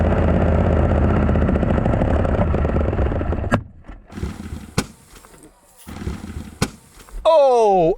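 A BMW V8 engine running with its oil drained roars loudly and steadily, then cuts out abruptly into irregular knocks and clatter as it dies. Voices speak over the dying sounds.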